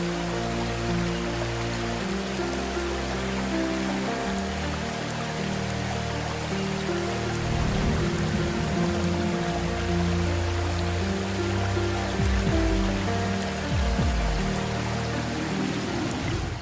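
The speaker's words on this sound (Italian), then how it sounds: "Su sono de s'acqua e fortimeda" Strong water pours and roars without a break at Sa Spendula waterfall in Sardinia, a dense, steady rushing wash that stays loud and close for the whole stretch, with low churning surges underneath.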